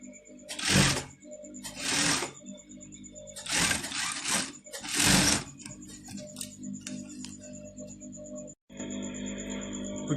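A sewing machine runs in several short bursts while stitching a half-inch sleeve seam on an Owoko garment, with pauses and light ticking between runs and a steady hum underneath.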